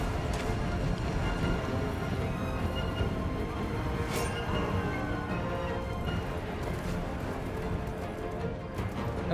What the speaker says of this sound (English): That's a big horse.